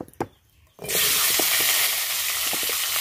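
Potatoes and garlic drop into hot oil in a wok, a quiet knock or two and then a sudden loud, steady sizzle with faint stirring clicks that carries on to the end, with no talk.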